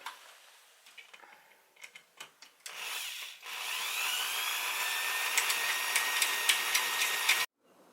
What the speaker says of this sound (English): Then I shall run the drywall screw into the side.